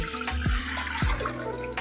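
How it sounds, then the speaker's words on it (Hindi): A full mug of water poured into a pressure cooker while tur dal is being cooked, giving a close, steady splashing pour with a few gurgling surges over about two seconds. "ये मैंने इसमें एक मग पानी डाला है।"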